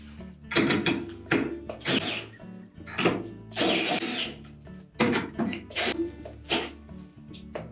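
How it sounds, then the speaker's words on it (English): Power drill driving three short screws into a Whirlpool washer's snubber ring, a series of whirring bursts in uneven spurts, starting and stopping close by. "Tighten the 3 short screws until they bottom out."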